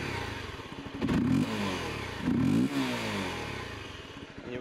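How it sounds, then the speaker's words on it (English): A Honda CBR 250R motorcycle engine revs up twice while idling close by, each rise in pitch falling back to a steady idle between them. "I'm gonna rev it here."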